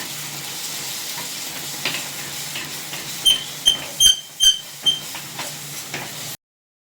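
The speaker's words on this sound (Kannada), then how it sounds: "ಹೀಗೆ ನೀರು ಹಾಕಿ ಚೆನ್ನಾಗಿ ಮಿಕ್ಸ್ ಮಾಡ್ಕೊಳ್ಳೋಣ," Water stirred into a sweet traditional godve halwa mixture in a pot makes a soft bubbling sizzle, with a run of rhythmic, close scraping strokes of the spoon before the sound cuts off.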